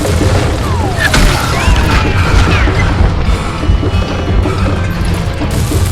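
Dynamite explosions in the video game Call of Juarez come as loud booms and crashing blasts within a dense, continuous roar of game noise, with occasional sharp cracks and possible faint voices underneath.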